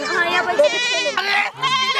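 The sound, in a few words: goat bleating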